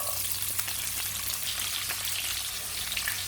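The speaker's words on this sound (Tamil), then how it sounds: "வெங்காயம் சேர்த்து வதக்கிக்கலாம்." Onions sautéing in sesame oil with whole spices and fennel for Chettinad beetroot kuzhambu, giving a constant close sizzle with faint crackles and light stirring throughout.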